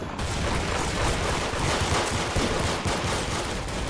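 A golden gun fires in the Roblox game Arsenal, a loud, nonstop stream of rapid shots that runs for the whole stretch like a machine gun, with no voices over it.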